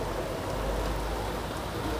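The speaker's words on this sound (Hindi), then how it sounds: "बहुत ही तगड़ी बारिश हो रही है।" Heavy rain falling steadily, a dense continuous hiss of drops on surfaces that stays even and fairly loud for the whole stretch, with no voices.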